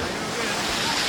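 Waves splashing in strong wind along a trail in Wisconsin, a dense continuous roar of water and wind buffeting the microphone, loud and close.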